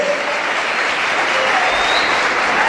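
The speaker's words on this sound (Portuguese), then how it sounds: "pode aplaudir o Senhor" A church congregation applauds the Lord in a steady, dense wash of clapping that stays loud and even from start to finish, with no break.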